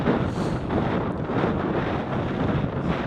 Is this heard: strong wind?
yes